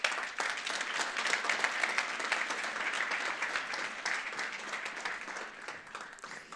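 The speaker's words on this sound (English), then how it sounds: "A big round of applause for them." Conference audience applause after a panel discussion on demographic shift, a moderate, even patter of many clapping hands that rises quickly, holds steady and gradually fades.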